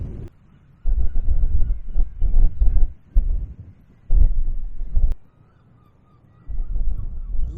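Seabirds crowded on the ledges of a sea cliff on Anglesey, North Wales, give loud bursts of honking, cawing calls, several overlapping outbursts with short pauses and wind rumble between them.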